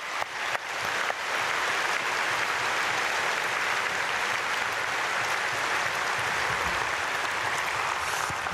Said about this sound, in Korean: 우리 다 같이 박수로 축복하겠습니다.